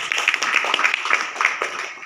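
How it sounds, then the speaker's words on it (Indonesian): An audience at an installation ceremony for a PERMAGI association branch in Helvetia, Medan, gives a short round of clapping. The hand claps come quick and fairly close and carry on steadily for about two seconds. "Puji Tuhan, tepuk tangan Bapak Ibu."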